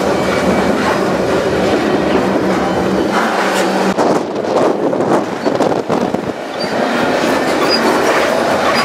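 Freight train climbing one of the steepest railroad passes over the Continental Divide in Wyoming, loud and close, with steady rumbling wagons, metallic clatter and occasional wheel squeal filling the whole stretch.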